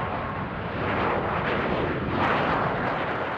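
A Grumman F-14 Tomcat with Pratt & Whitney engines makes a low pass over a carrier, a loud broadband jet roar that swells briefly and stays dense for a few seconds.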